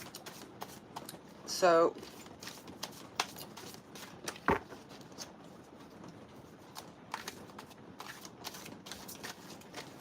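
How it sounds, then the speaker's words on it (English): Tarot cards being shuffled once in a quick riffling burst, close and crisp, followed by a few light taps and card handling while a person speaks. "And then I'm going to pull some other cards."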